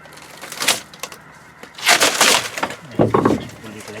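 Wedges driven in to pop a cured fibreglass part free during repair of a collision-damaged fibreglass boat: three bursts of cracking, splintering knocks, loud and close, separated by brief pauses.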